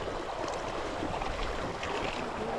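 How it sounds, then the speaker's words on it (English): Fox Creek rushes past a mountain trail crossing as a steady, close, broadband wash of flowing water, unbroken for the whole stretch and with no voices. "This is our first crossing over Fox Creek."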